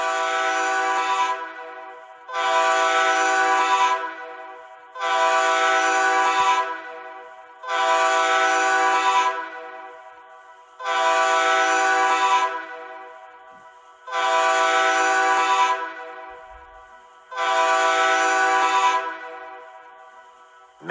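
Train horn sounding loud, sustained blasts in a regular series, seven long tones of equal length with short gaps between them, clear and alone with no voices.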